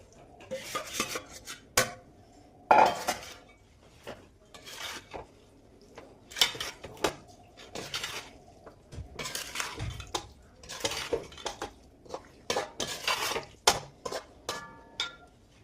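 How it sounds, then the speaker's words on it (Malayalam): Mango pickle being mixed with powdered jaggery in a pot: irregular bursts of a spoon scraping and clinking against the vessel, close and fairly quiet, separated by short pauses. "മാങ്ങയിട്ട് മിക്സ് ചെയ്യണം"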